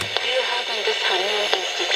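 A homemade shortwave radio emits a garbled, warbling signal, a wavering mix of hiss and tone that stays loud and continuous for two seconds with faint clicks, and no one talks over it.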